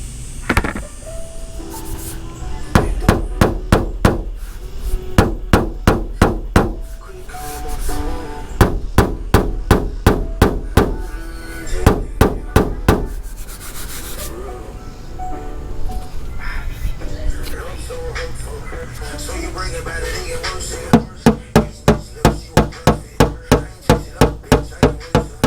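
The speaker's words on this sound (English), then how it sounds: "I'm gonna be using this body hammer here to knock those down." A pointed body hammer knocks down raised spots in a car body panel during auto bodywork, giving rapid runs of sharp metallic taps in several bursts with someone talking between them.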